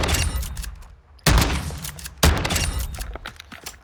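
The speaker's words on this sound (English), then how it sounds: "And you can also shoot twice from the hip and kill them at that range." In Call of Duty Modern Warfare II, a Bryson 890 shotgun fires two heavy blasts about a second apart, each a sudden loud boom with a rattling decay, over a layer of game background noise.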